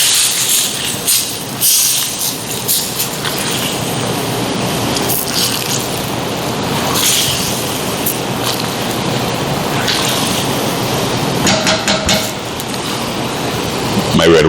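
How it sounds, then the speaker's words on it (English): Red wine barbecue sauce simmers and bubbles in a pan, a steady hissing sizzle with soft popping that runs continuously at moderate loudness, with no talk over it. "My red wine barbecue sauce simmering nicely."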